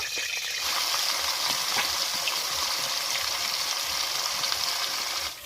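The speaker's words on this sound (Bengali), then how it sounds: "কড়াতে দিয়ে দেবো তেল। মাছগুলো ভেজে নেব।" Rohu fish sizzling in hot oil in a wok, a steady loud hiss and crackle of frying that runs unbroken from start to finish with scattered pops, no voices.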